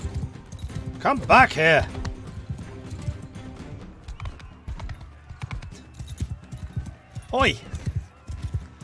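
Horse hooves clip-clop in a rapid galloping rhythm in the Mount and Blade 2: Bannerlord video game, with a character shouting over it and a brief whinny-like cry.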